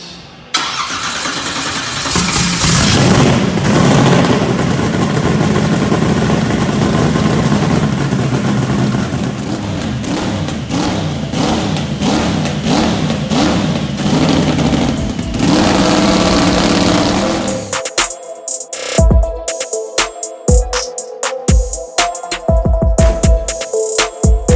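A car engine turns over and catches, then revs repeatedly in rising and falling surges before dropping into a rough, uneven idle with clattering knocks.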